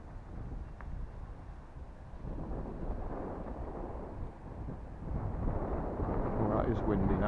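Strong wind buffets a hillside slope, roaring in continuous low gusts that swell louder near the end, with a brief burst of wind noise.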